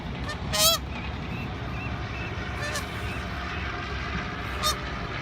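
A mother duck calls near her duckling trapped in a net outdoors, a few short honking calls rising over a steady rushing background.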